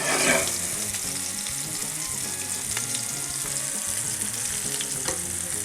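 Blackened fish sears in a hot pan, giving a loud, dense, continuous sizzle up close with a few faint crackles throughout and no talking.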